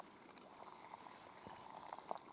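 Water bubbling at a rolling boil in a pot on a Bush Box camping stove outdoors, a faint, steady churn with small pops and gurgles, no voices.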